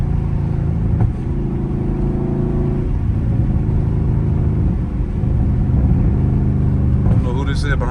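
A Dodge Scat Pack on a night street drive with a loud exhaust, its engine holding a deep, steady rumble that swells slightly as it pulls, near and constant under the cabin, with a brief sharper rise near the end.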